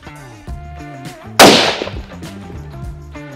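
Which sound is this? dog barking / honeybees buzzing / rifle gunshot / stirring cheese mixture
rifle gunshot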